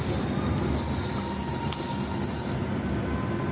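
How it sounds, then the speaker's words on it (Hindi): A spray bottle of homemade rose water mist is pumped, producing a loud, close, continuous airy hiss that fills the clip with brief breaks in the highest hiss. "मैं थोड़ा सा इसके अंदर स्प्रे करूँगी, ऐसे मैं स्प्रे किया और इसके अंदर मैंने ऐसे स्प्रे कर दिया"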